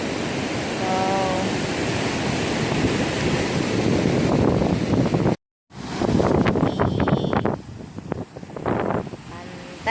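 Surf rolling in at Kasap beach in Pacitan, a steady, full wash of breaking waves mixed with wind buffeting the microphone, briefly cut off, then continuing more broken with a voice speaking over it.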